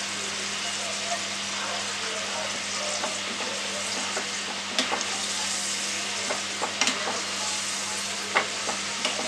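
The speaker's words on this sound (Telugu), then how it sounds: "ఈ ఆయిల్ ఏదైతే వేయించుతున్నారు ఉసిరికాయలు, అది వేస్ట్ అవుతుందండి" Wild Indian gooseberries (amla) fry in oil over high flame for an old-style pickle, giving a steady, dense sizzle throughout with occasional small pops and stirring clicks, while a person talks over it.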